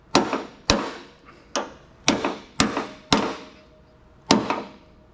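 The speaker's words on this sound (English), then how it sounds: "Clamp your vice grips to the pin, hit the vice grips, the hammer." A hammer strikes vice grips clamped onto a door hinge pin on an 82-92 Camaro/Firebird, seven sharp metallic blows at uneven intervals, each ringing briefly, loud and close with no talk.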